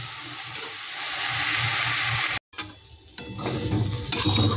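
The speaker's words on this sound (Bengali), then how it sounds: "এটাকে একটু ঢাকা দিয়ে একদম কম আঁচে আমি একটু ভেজে নেব" Shrimp and drumstick leaves frying gently over low heat in a covered pan give a steady soft sizzle, broken by a brief silence and a few clattering stirs near the end.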